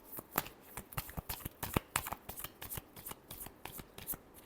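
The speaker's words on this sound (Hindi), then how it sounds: "Last shuffle." Tarot cards being shuffled by hand in a steady run of crisp, papery riffles and flutters, close and fairly quiet, with no voice.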